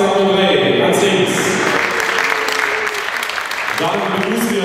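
Crowd applause welcoming the host club at a youth (C-Junioren) football tournament, a steady wash of clapping throughout with a public-address voice speaking over it.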